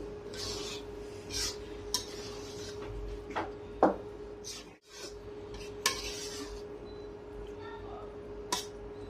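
A spoon stirs khichuri with ghee and oil in a cooking pot, giving quiet scraping strokes and scattered sharp clinks of metal on the pot over a steady low background hum.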